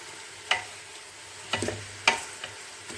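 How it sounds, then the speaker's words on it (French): Calf feet are browned in a pressure cooker, with a soft background sizzle broken by a few sharp metallic scrapes and clinks of stirring, close and fairly quiet. "Je vais les faire revenir et ajouter de l'eau et après je ferme la cocotte minute."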